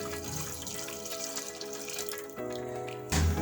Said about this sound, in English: Then I'm going to add a glass of water.